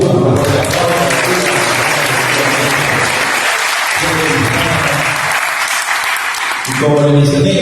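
Loud, dense applause from an audience at a Mexican ancestral cooking event, sustained for several seconds, with voices and tonal sounds mixed in beneath the clapping.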